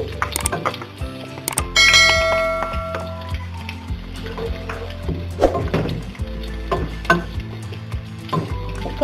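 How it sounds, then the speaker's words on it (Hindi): Onions frying in hot oil in a pot for a dhaba-style aloo gobi, giving a steady close sizzle with clatters and stirring knocks, loudest after they drop in and then settling into a continuous crackle. "ऑयल गरम हो गया है, अब हम इसमें प्याज ऐड करेंगे"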